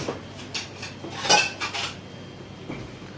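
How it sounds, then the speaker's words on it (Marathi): A plate is set down on top of a dish holding chicken dum biryani in a home kitchen, giving a few close ceramic clinks and one sharp clatter, with no talking. "त्याच्यावरती प्लेट ठेवूया"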